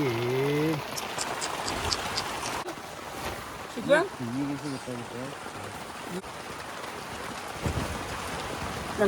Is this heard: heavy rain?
yes